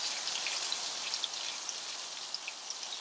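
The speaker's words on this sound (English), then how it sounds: "let this sizzle a bit" Minced garlic sizzles steadily in butter and olive oil in a pan, a soft, even crackle with tiny pops scattered throughout and no voices over it.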